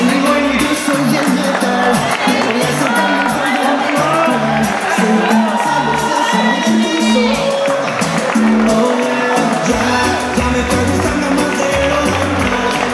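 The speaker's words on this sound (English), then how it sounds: "applause." Crowd at the NABBA Worlds 2018 Masters Over 50 bodybuilding posedown applauding and cheering loudly and continuously, with whoops and shouts rising over the noise throughout.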